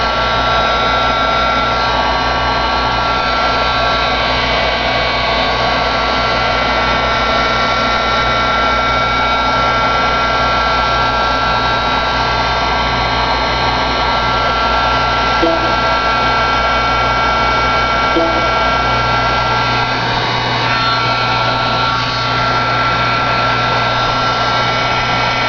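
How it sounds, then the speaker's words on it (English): Heat gun blowing steadily on alcohol ink artwork, a continuous loud whirring hiss with a fan hum that runs unbroken throughout, slightly shifting in tone near the end. "I'm going to hit it with my heat gun, which also gives me some more movement"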